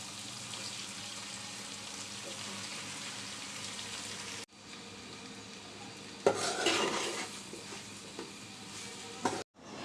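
Noodles for a chicken pasta dish are tipped into a pan and stirred, with steady scraping and a soft sizzle running throughout, a brief pause, then louder clattering utensil strokes against the pan near the end.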